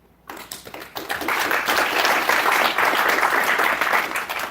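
A conference audience at Wikicite 2018 breaks into applause after a brief quiet moment, the clapping building quickly and then holding steady and fairly close.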